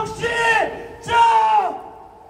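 Protest crowd of union workers marching toward the presidential office in Seoul, roaring two loud sustained collective shouts, each about half a second long, close and strong.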